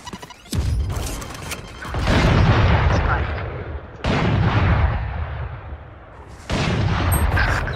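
Gunfire in Valorant striking a wall: heavy, booming bursts of shots in three loud clusters, each tailing off before the next, close and dominant.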